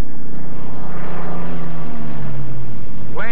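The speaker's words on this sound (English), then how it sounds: "Plane gains speed extremely fast in a dive." A P-51 Mustang fighter plane roars loudly in a dive, its propeller engine a continuous, close, dense drone with pitch sweeping downward throughout.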